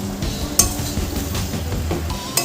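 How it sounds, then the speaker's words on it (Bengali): Fried potato and pointed gourd being stirred in a pan, a soft sizzle under scraping and occasional metallic clinks of a spoon against the pan, close and steady. "এবার আমি যে আলু পটলটা ভেজে রেখেছিলাম সেটা আমি এর মধ্যে দিয়ে দেব, দিয়ে ভালো করে কষাতে থাকবো।"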